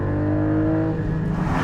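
A Porsche GT4 with PDK gearbox revs hard on the Anglesey track, a loud, close engine note holding steady and then climbing higher with no talk over it.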